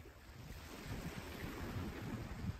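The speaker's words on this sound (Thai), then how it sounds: "หาดทรายกับท้องทะเลนะคะธรรมชาติ" Sea waves wash onto a sandy Danish beach under steady wind noise, a continuous broadband surf roar with no talking.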